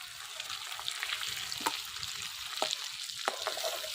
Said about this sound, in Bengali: হয়ে গেছে আমার মাছ ভাজা